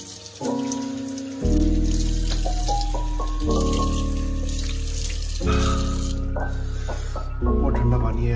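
A bathroom tap runs with cold water during teeth brushing, a continuous splashing stream heard under loud tonal music playing nearby.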